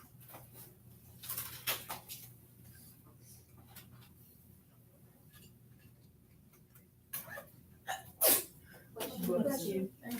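One sharp sneeze bursts out near the end inside a quiet chemistry classroom, following faint ticking and soft room noise, with quiet talk around it.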